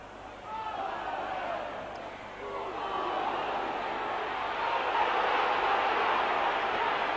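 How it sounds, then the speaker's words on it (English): A rugby league stadium crowd at a 1995-96 Leeds v Oldham match rises in an angry roar, a broad distant swell of voices that builds steadily over several seconds. "Crowd a bit incensed on that occasion."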